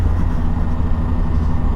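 Yamaha MT07 2019 motorcycle accelerating, its engine a steady low rumble heard from the rider's position, fairly loud and unbroken, with no speech over it.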